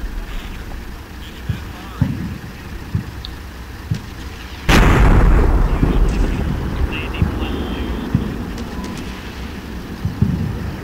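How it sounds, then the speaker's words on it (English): In the Combat Mission: Shock Force game, a fire team dug in on a berm fires and knocks out a tank, bringing a sudden loud explosive blast with a rumbling tail, set amid steady battlefield wind noise and scattered distant thumps. "That explosion was from the fire team I put up on the berm"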